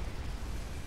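Satellite strike explosion in the strategy video game Mechabellum, a dense, loud, sustained low rumbling blast filling the whole moment, no voices.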